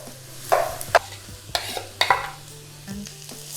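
Garlic sizzles in a pan with onion and ginger for butter chicken, stirred in a few sharp scrapes and clacks of the spoon over a soft steady frying hiss, close up and without speech.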